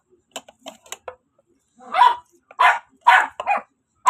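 Pet dogs bark several times in short, sharp bursts at close range, after a few light clicks and small yips in an otherwise quiet room.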